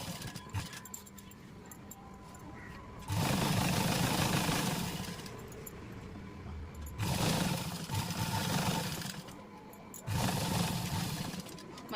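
A sewing machine stitches along a marked line on a blouse back neck in three loud, steady whirring runs of a couple of seconds each, separated by quieter pauses for adjusting the fabric.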